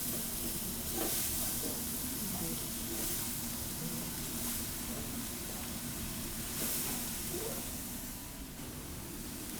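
Vegetables sweat gently in a pot for tomato soup, a soft, even hiss with faint scattered crackles that swell slightly now and then, quiet and steady with no talking.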